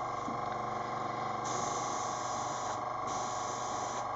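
An airbrush sprays paint onto paper flowers in a steady close hiss, with brief surges and dips in the airflow as the trigger is worked.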